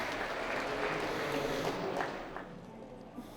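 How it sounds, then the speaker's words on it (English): Crowd applause for a couple at a wedding ceremony in Cult of the Lamb, a continuous wash of clapping that holds steady before thinning out toward the end. "Applause for our beautiful couple."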